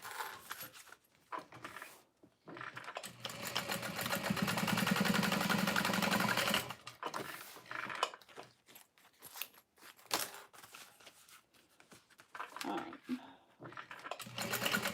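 A sewing machine stitches Devon pouches, a close, continuous mechanical whirring that swells for several seconds and then breaks into shorter bursts with rustling and handling noises between them.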